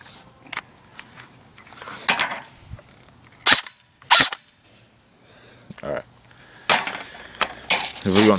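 Ignite airsoft M4 Viper rifle with blowback fires several separate sharp snapping shots on semi-auto, spaced irregularly with quiet gaps, close and fairly loud, with faint voice in the background.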